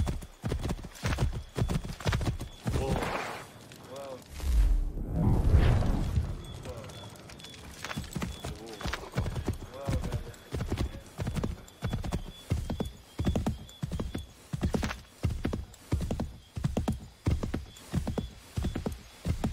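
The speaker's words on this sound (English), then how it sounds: "Get back on the horse, Connor." Horse hooves clip-clop in Assassin's Creed 3, a steady rapid beat of close hoofbeats that runs throughout, with a brief whoosh and a snort near the middle.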